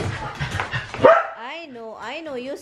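A dog barks sharply, then breaks into several strained, whimpering yips, close and loud indoors, with a voice talking nearby.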